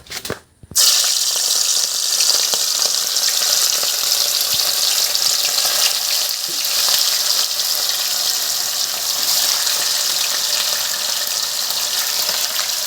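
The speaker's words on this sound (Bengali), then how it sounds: "প্রথমে জাস্ট হলুদ মাখিয়ে আমরা তেল গরম হয়ে গেছে তেলে দিয়ে দিচ্ছি মাংসটা" Turmeric-coated broiler chicken drops into hot oil in a pan at a village kitchen, setting off an abrupt, loud, steady sizzle that roars on without pause and with no talk.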